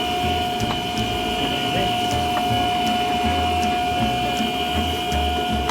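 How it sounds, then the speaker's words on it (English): Saw or grinder in a bookbinding machine roughing up book spines, a loud constant mechanical whine and grinding drone with a steady high tone, close and unbroken, with faint ticking clicks over it. "And then there's a saw or a grinder."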